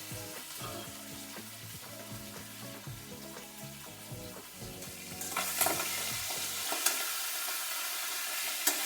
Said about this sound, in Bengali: মাছটা বেশ ভালো করে ভেজে নিচ্ছি।